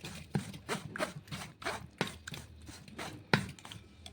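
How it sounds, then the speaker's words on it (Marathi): A spoon scraping and beating curd through a sieve into a pot for Amul-style shrikhand, a steady rhythm of close, wet strokes repeating about every half second. "चम्मचने असं असं करून चाळणीवर आपल्याला पूर्ण दही गंजामध्ये पडेल असं फेटून घ्यायचं आहे."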